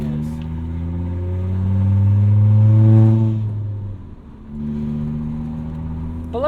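A $500 beater car's engine revs loudly through its loud exhaust, the drone swelling to a peak midway, then easing off and settling back to a steady idle rumble; no voices.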